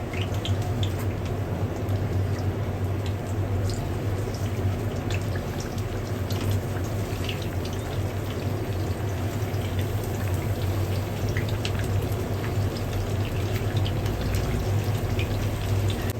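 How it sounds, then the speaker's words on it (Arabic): Eggplant fries in a pan of hot oil, giving a constant, fairly loud sizzling hiss with scattered faint pops that holds unchanged throughout, no voices present. "اول حاجه نقليها البتنجان بتاعنا"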